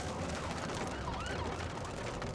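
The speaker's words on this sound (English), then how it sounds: "Another ambulance." An ambulance siren wails faintly in the distance through rainy, miserable street weather. It sits under steady broadband traffic and rain noise with a subtle rising and falling tone, and no one speaks.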